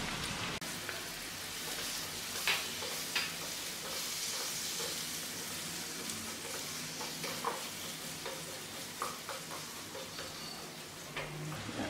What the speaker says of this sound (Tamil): தக்காளி வந்து நல்லா மசிஞ்சு வர வரைக்கும் வதக்கணும்